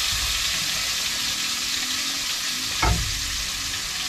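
Labahita fish sautés in a hot pan with a continuous crackling sizzle. A short clatter of the spatula or pan comes near the end, and no one speaks.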